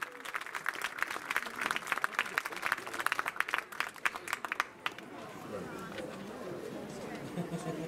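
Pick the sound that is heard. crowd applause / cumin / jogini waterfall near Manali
crowd applause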